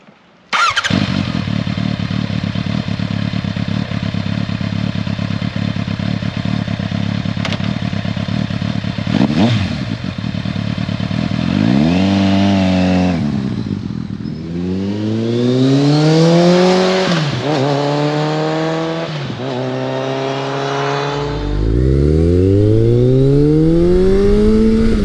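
A Kawasaki ZRX1100 retro superbike ridden on an open road, its engine loud and steady, then revving up and down repeatedly through the gears with rising and falling pitch sweeps, heard close with no talk.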